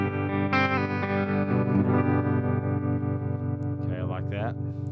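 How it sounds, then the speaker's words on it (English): An electric guitar runs through a modeled '65 Black Princeton amp with tremolo, playing sustained chords whose level pulses steadily, fairly quiet and close. "what do you think about that tremolo sound? This is just a straight 65 Black Princeton."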